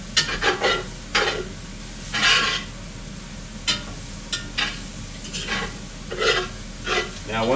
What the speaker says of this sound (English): stir it back towards the middle